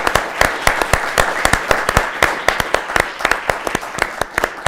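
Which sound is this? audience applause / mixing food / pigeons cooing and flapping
audience applause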